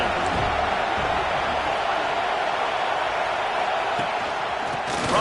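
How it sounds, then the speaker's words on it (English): A packed stadium crowd at a football game roars in a steady, dense wall of noise, loud and sustained throughout, with no distinct voice standing out. "This crowd ready to make its presence known."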